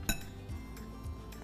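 A spoon clinks against a container while two spoonfuls of olive oil are added to a glycerin and petroleum jelly hand cream, a sharp clink first and then softer taps, all quiet.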